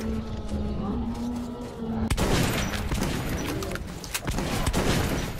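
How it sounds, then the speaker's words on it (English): Shotgun blasts in Metro 2033 aimed at baboon creatures begin with one sudden sharp shot. A dense run of loud, close gunfire and clatter follows, with a steady hum under the earlier part. "Not the most efficient use of shotgun ammo."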